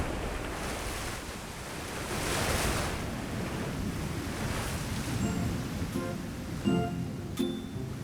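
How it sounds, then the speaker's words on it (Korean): A waterfall and a rushing mountain stream in a primeval forest valley on Jirisan, heard as a steady broadband roar of churning water that swells slightly in places, with no voices. "폭포수는 물속으로 산소를 공급해주긴 하지만 그 거센 물살의 힘은 작은 크기의 생명들에겐 커다란 도전이기도 하다"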